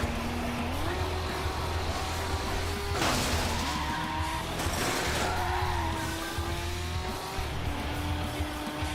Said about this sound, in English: Also, I don't like how the F50 sounds.